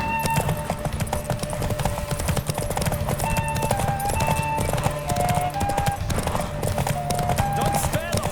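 Rapid rhythmic hoofbeats of a galloping horse in The Witcher 3, steady and close, layered under game music with sustained tones.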